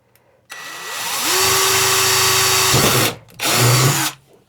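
A power drill bores a hole for a thermostat probe on a smoker rack: a loud, close whine winds up, holds steady for a couple of seconds, cuts out briefly, then spins again before stopping.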